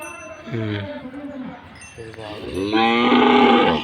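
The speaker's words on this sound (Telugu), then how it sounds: "రైతు ఎద్దులు." Deep, drawn-out moos from large native Indian bulls at a show, several calls in a row, loud and close, with a long bellow at the end.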